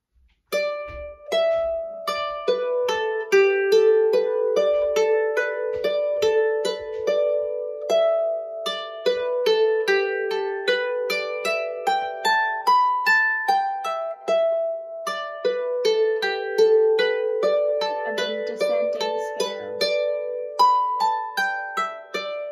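Manx harp slowly playing through the whole A part of the tune "Half A Manx Second too Late", a steady stream of plucked, ringing notes with sustained overtones, close and fairly loud, with no voice over it.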